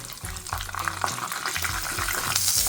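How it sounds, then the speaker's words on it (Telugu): Tempering of chana dal, mustard seeds, cumin and a dried red chilli frying in a little oil in a small kadai, a crackling sizzle with occasional stirring scrapes, rising toward the end. "తాలింపు ఎరడాలుగా వేగింది"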